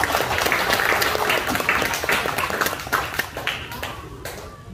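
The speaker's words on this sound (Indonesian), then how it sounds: "Tepuk tangan dulu." A crowd at a jaranan folk arts gathering in Kediri breaks into loud applause, dense at first and then thinning into scattered individual claps as it fades.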